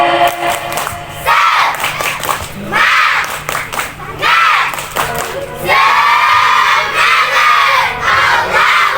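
A large group of children at a Quran memorization school graduation shouts a loud, rhythmic clapping chant with bursts of cheering, energetic and close, filling the space continuously.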